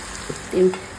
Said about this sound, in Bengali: আমি লাড়াচাড়া করে ঢাকা দিলাম